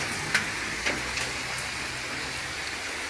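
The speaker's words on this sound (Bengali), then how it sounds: "প্রচণ্ড বৃষ্টি হইতেছে আমাদের নোয়াখালীতে।" Steady heavy rain hisses evenly throughout in Noakhali, Bangladesh, near a gas station, with a few sharper drip-like taps standing out early on; no voices.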